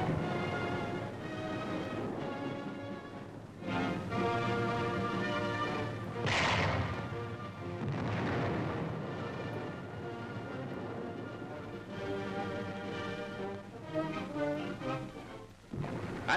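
Mortars fire from landing barges during an amphibious assault, heavy booming blasts and rumbling reports repeating across a noisy, distant battle soundscape.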